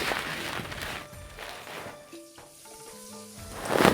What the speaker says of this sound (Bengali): পেঁয়াজটাকে একটু নরম করে ভেজে নেব